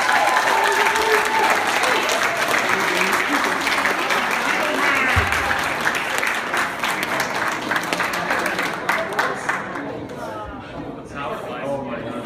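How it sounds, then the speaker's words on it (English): Wedding guests applaud after a toast, a loud, sustained burst of many hands clapping that fills the room for several seconds before gradually thinning out, with scattered voices and cheers mixed in. "guys, can you please give him a round of applause?"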